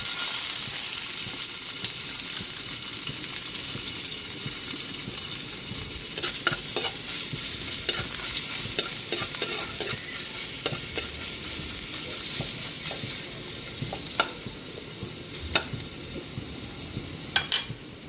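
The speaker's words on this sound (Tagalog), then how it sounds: "Magigisa na po tayo ng ating sayote" Garlic sautés in oil in a pan for ginisang sayote, a loud continuous sizzle with scattered crackles and pops throughout, and no one talking.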